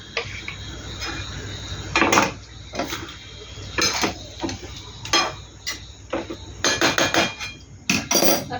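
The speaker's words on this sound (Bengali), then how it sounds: "বেগুনগুলো দিয়ে দেবো।" Eggplant pieces tumble into a cooking pan for a katha fish curry with potato and eggplant, making a run of irregular close clanks and clinks of metal and utensils over a low steady hum, with no talking.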